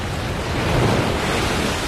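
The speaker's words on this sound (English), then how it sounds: "Waves are smashing and crashing on the rocks up there." Rough surf crashes against rocks at sea, a continuous loud roar of breaking water mixed with wind buffeting the microphone, with no talk.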